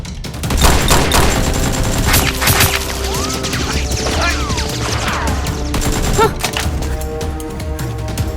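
Toy foam-dart blasters fire during a mock SWAT-versus-criminals battle: loud rapid bursts and volleys of snapping shots, with scattered knocks and whooping sweeps throughout.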